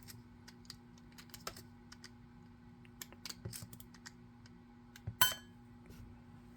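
Sparse small metallic clicks and taps as slugs are unloaded from a Maple Custom Products magazine for an Air Arms S310/S410/S510 air rifle, close and quiet, with one sharper clack near the end and no talking.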